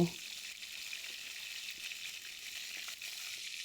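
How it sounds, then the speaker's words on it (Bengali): Crabs rubbed with salt and turmeric fry in a wok, giving a soft, even sizzle that starts with a brief knock and then crackles quietly and steadily. "এবার কাঁকড়াগুলোকে ভালো করে ভেজে নেব।"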